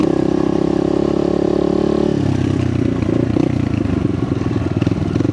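A Microbike MX150XR motorcycle rides a mountain road in Nueva Vizcaya, its engine droning steadily and close, with the pitch and rhythm shifting partway through amid light rattling.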